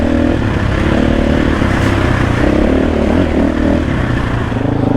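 A 2024 KTM 500 EXC-F enduro motorcycle engine drones steadily and loud at close range during an enduro ride, with a continuous buzzing engine tone that slightly rises and falls throughout.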